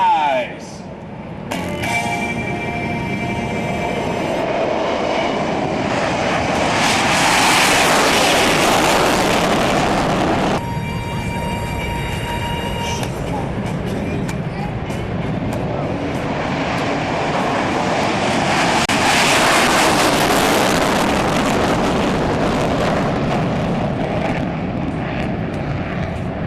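Military jets take off from the runway at Elmendorf AFB, loud roaring engines swelling and fading in two long passes, with a public-address announcer talking over them.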